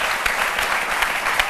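A crowd applauds steadily, a dense patter of many hands clapping at moderate distance, with a few louder claps standing out.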